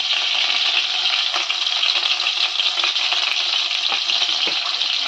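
Chicken pieces sizzle loudly in a hot pan with cinnamon and bay leaf for a malai chicken, a dense, steady frying hiss close up, broken by the occasional scrape of stirring.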